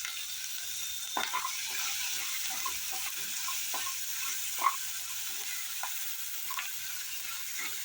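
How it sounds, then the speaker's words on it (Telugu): Curry leaves sizzling in hot oil for a rasam, a steady bright hiss with scattered pops and spatters, close and alone. "ఇప్పుడు కరివేపాకు వేసుకుందాము."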